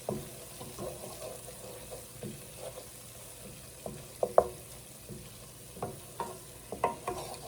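Flour cooks in a pan as the base of a mac and cheese sauce, giving a soft low sizzle broken by intermittent scraping stirs and light knocks of a utensil against the pan, close by, with no talking.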